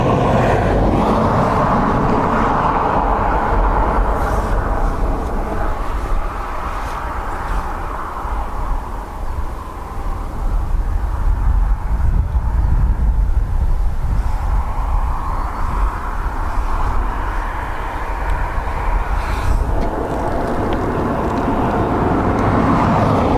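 A United Boeing 757 from Washington at Dublin Airport produces a loud, sustained jet engine roar that swells and fades across the clip, with no talking heard.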